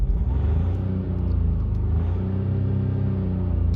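A BMW F20 1 Series with a 1.5-litre diesel engine and a charge pressure fault is revved while stationary, a loud, close, steady engine rumble that swells slightly and holds with no talking.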